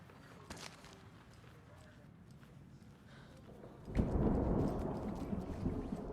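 Thunderstorm in the video game Alan Wake 2: steady rain hisses in the background, then a sudden loud thunder crack breaks in and rolls on, with rain continuing beneath it.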